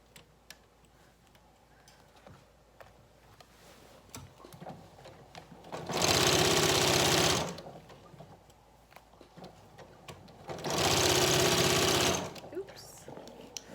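A sewing machine stitching a skirt onto a qaspeq runs in two loud, steady whirring bursts of about one and a half seconds each, separated by quieter handling noise and talk.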